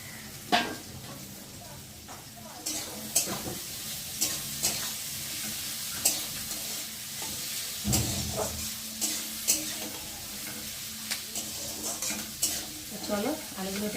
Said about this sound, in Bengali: আর এখন এই যে কুচিয়ে রাখা আলুগুলোকে দিয়ে ভালো করে ভেজে নেব।